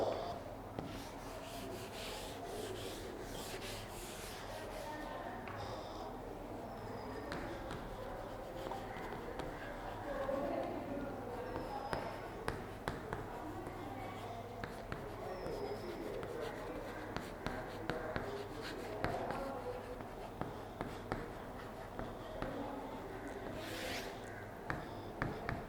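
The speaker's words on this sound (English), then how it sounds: "I will just write on the board." A teacher writes on a classroom board, giving faint scratchy strokes and soft taps in an irregular rhythm over quiet room noise, with no talk.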